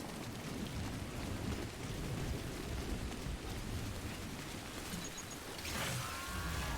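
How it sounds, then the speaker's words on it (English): Steady video game rain hisses softly and continuously, a dense wash of falling drops with a faint brief chime near the end, no voices present. "Okay, I stepped into area with the rain."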